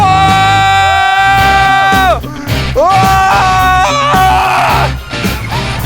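Several people scream and yell loudly together, sustained shrieking cries rising and falling over about six seconds with brief dips, in a group setting.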